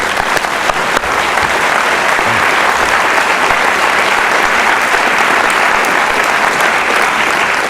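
An audience breaks into sustained, steady applause to welcome author Scott Turow at a Revelle Forum event, loud and even-textured clapping from a large crowd for the full length with no break.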